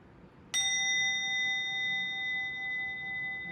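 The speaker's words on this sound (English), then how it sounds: "So we're going to ring our bell 3 times." A single small bell rings once with a bright strike during a children's chapel service, then its clear tone hangs and slowly fades in a quiet room.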